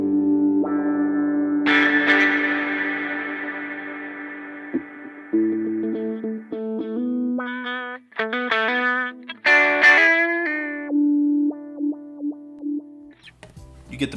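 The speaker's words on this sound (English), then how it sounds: "It's a wah pedal." Electric guitar run through a wah effect on an HX Stomp, with sustained notes and chords that swell and sweep in tone, then short plucked phrases with echo, loud and close with no talking.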